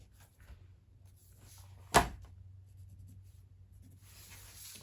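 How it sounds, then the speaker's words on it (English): A pen drawing a single quick stroke across fabric to mark a one-inch cut line for a crossbody bag pattern, a brief close scratch in an otherwise quiet room with a low hum. "then mark our 1 inch cut line"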